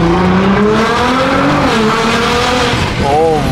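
A fast Nissan GT-R accelerates hard, its engine note climbing steadily in pitch as it pulls through the gears, loud and close throughout with no talk over it.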